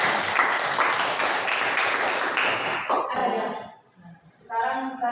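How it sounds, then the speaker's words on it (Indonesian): A classroom group applauds in a dense burst of clapping for about three seconds, then it stops and a voice speaks. "Tepuk tangan dulu."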